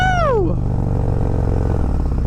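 Harley-Davidson M8 bagger fitted with an S&S Sidewinder 2-into-1 exhaust, pulling in third gear from under 2,000 RPM: a loud, close, deep engine roar that holds steady and strong throughout the short burst.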